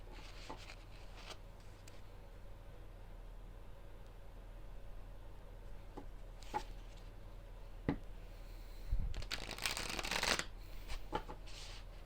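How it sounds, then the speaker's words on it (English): A deck of tarot-style cards being shuffled by hand, riffling and rustling in bursts that build to a louder flurry near the end, close and alone with no talking. "I can actually shuffle this easily."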